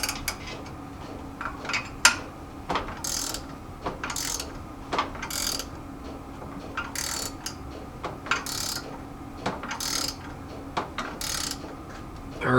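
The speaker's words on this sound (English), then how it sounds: "we'll tighten up this nut over here on the plunger" A ratchet wrench tightens the nut on a power steering pulley installer's plunger while pressing a pulley onto a Jeep J10 pump shaft: close, repeated sharp clicks and metallic ratchet strokes in an irregular rhythm, with no talk.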